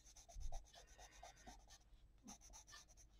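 A pencil colors on paper in soft, faint scratchy strokes, short rhythmic rubs with a brief pause midway, close and quiet with no talking.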